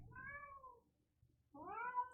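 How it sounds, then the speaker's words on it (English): A house cat meows twice at close range, each a drawn-out, wavering cry separated by a short quiet gap, with no talking. "one of the cats wants to say hi."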